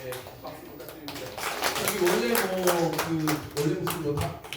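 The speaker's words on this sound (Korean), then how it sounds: "박수 부탁드립니다" An audience at a live literature and lecture event claps in a steady, moderately loud burst of applause lasting a few seconds, with a voice speaking faintly underneath.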